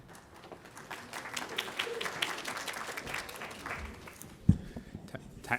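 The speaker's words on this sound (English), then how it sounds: "thanks for a round of applause" Audience applause at a conference talk on developing a payment platform for the HSE, moderate and scattered, building after a moment then thinning out with a sharp knock near the end.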